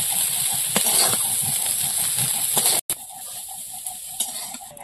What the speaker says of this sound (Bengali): সয়াবিন ভাজা হয়ে গেছে, এবার তুলে নেব।